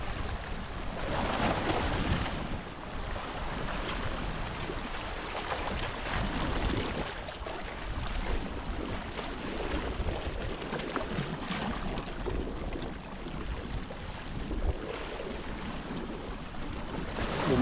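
Steady wind and sea wash heard from aboard a fishing boat during the amihan monsoon, a continuous broadband rush with water slaps and gusts, no talk.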